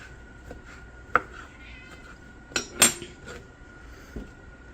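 Cats meow close by in a home kitchen during keto meal prep, a few short plaintive calls scattered among light clinks of dishes and cutlery.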